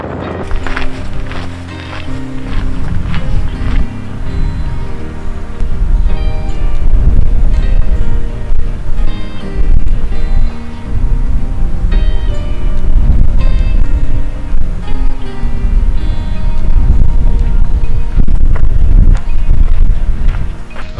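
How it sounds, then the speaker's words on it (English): Strong cold wind roars across a snowy mountain ridge on the PCT in the North Cascades during a snowstorm, a loud, continuous gusting rush that swells in the middle and stays heavy throughout. "That wind is no bueno, man."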